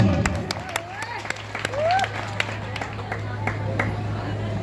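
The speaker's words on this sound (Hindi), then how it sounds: "एक जोरदार ताली पितामह जी।" Applause at a village stage play as an actor playing Pitamah is introduced: scattered claps over a steady low hum and crowd noise, fairly near, with speech-like sounds mixed in.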